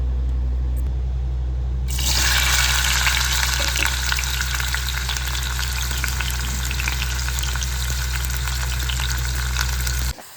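Bitter gourd pieces, squeezed of their juice, fry in hot oil. After a couple of seconds of low background hum, a loud, close, crackling sizzle starts and holds steady, then cuts off at the very end.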